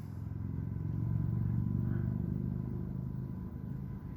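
A small tug boat engine runs steadily on a river, a low continuous rumbling drone that swells slightly and stays close throughout, with no talking.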